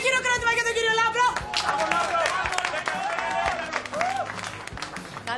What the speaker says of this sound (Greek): Ένα χειροκρότημα για τον κύριο Λάμπρο.